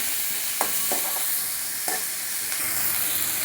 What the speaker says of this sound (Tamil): நல்லா வதங்கிட்டு வெங்காயம்.